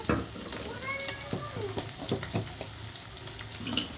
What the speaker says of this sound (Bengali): আর এদিকে কিন্তু ভাজা হয়ে যাচ্ছে ইলিশ মাছগুলা